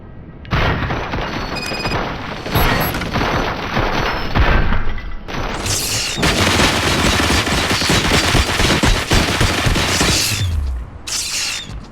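Sustained heavy gunfire in the video game RoboCop: Rogue City, loud continuous automatic bursts with booming impacts, briefly pausing before resuming intensely.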